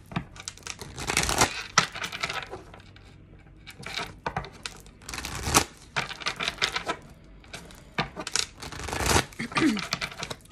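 Bursts of cards riffling and being shuffled, three or four quick rapid flurries of papery clatter separated by quieter handling sounds.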